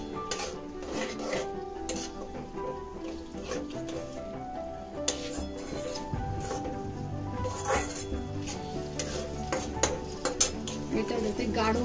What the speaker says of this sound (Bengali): একটু কর্নফ্লাওয়ার গুলে এর মধ্যে মিশিয়ে দিলাম